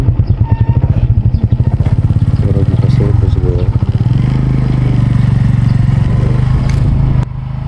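A motorcycle engine idles and runs nearby in Clarin, Bohol, with a loud, steady pulsing thrum that smooths into a sustained drone, while a person talks over it.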